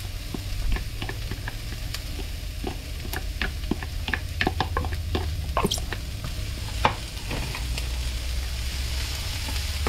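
A wooden spatula stirs and scrapes through garlic and jalapeno in hot oil, with repeated sharp scraping strokes over a steady sizzle throughout.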